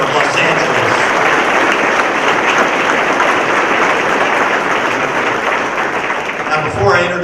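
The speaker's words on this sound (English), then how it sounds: "One more round of applause for the mayor of Los Angeles" Loud, dense applause from a summit audience in Orange County honoring the mayor of Los Angeles, a steady wall of clapping that holds at full strength for the whole stretch and dips slightly at the end.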